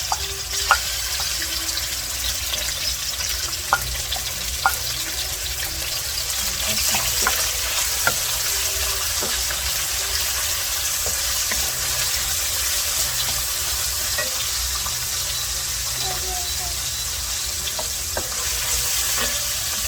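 Pork stir-frying with browned garlic in a pan gives a continuous loud sizzle, broken by scattered clicks and scrapes from stirring, with no speech over it.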